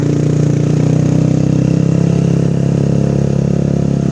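A motorcycle engine labouring steadily while climbing the mountain road up Gunung Tangkuban Perahu, a loud, close, continuous low drone with a slight clatter and no pauses.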